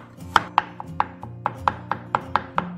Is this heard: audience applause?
no